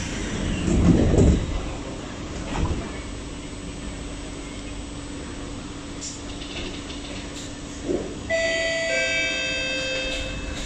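MRT train running from Woodlands North toward Changi Airport, with a steady interior rumble and rail noise, a few brief clunks, and electronic tones near the end.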